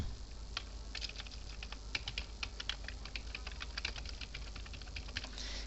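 Quick, uneven clicks of a computer keyboard as someone types code and a title into a blog editor, close and steady with no speech.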